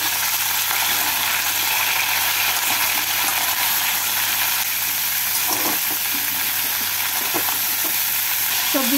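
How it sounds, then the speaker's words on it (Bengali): Mixed vegetables with a little salt frying in oil in a pan, a steady dense sizzle with occasional light stirring clinks, close and continuous. "সবজিগুলো ভাজা হয়ে গেছে"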